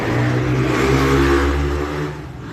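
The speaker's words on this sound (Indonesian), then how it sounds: "jadi kadang kalau pas lewat motor tuh suaranya bisingnya minta ampun." A motorcycle engine roars close by on a busy main road outside a house, a loud steady hum that fades slightly as it passes.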